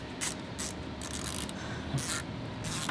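A ratchet fitted with a 7 mm socket turns a factory worm-drive hose clamp on a 2022 Subaru WRX charge pipe, giving bursts of rapid clicking in several short runs with brief pauses, close up and steady.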